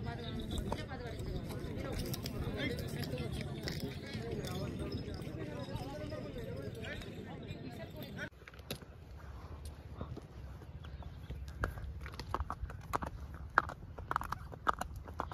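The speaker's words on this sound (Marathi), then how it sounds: "ह्या घोड्यांना काय टाकता तुम्ही जेवायला?" Horses walking on a ride at Table Land, Panchgani, with irregular hoof clip-clops and footsteps heard mostly in the later half, while people talk nearby throughout.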